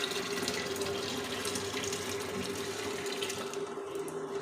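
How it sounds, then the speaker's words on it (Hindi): Hot water pours in a continuous, even stream into about 1.5 kilograms of yogurt to make lassi, a close, steady splashing rush that thins slightly near the end. "और गर्म पानी डालेंगे इसके अंदर।"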